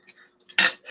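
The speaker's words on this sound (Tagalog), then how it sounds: "Shoutout sa mga nagugas ng plato dyan, ng ingay" Dishes being washed, with plates and cutlery clattering in a quick burst of clinks and one louder crash of ceramic, close and brief.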